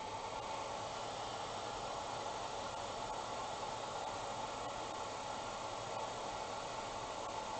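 A hand dryer blows a steady, even stream of air over the paint on a Catwoman figure, a constant close whooshing hiss with no change in level and no voices.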